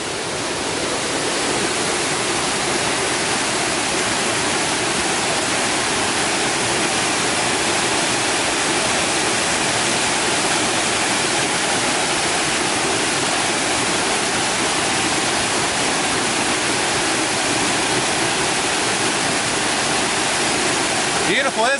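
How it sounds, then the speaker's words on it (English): Lower Whiteoak Falls in Shenandoah National Park roars in a constant, dense rush of falling water along a river canyon, loud and close, with no break throughout. "you come along this river here to the lower Whiteoak Falls"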